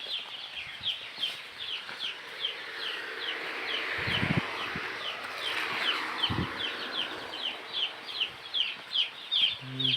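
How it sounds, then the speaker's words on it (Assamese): Chicks in a broiler brooder keep up a dense, continuous chorus of high-pitched cheeps and peeps, close by, with a couple of brief wing flutters or bumps. "পোৱালিটো দেখাব লৈ গৈছোঁ আপোনালোকক।"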